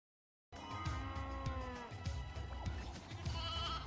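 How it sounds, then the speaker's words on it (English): Sheep in Final Fantasy XIII-2 bleat repeatedly over a steady game backdrop, several wavering calls overlapping at moderate volume after a short silence at the start. "I can manipulate where the sheep are running by throwing Mog, because they will run towards where Mog is"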